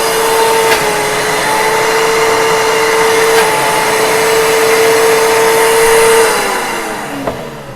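A Princess House high speed blender blends homemade hummus, giving a loud, steady motor whine that runs for several seconds, then drops in pitch as it winds down near the end.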